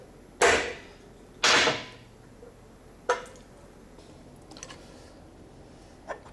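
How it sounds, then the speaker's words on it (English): Two sharp metallic taps of a light hammer on a center punch ring out close by, followed by a lighter tap and a few faint clicks. "just give it a light tap on top with the hammer"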